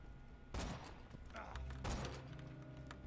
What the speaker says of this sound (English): You fired another rocket?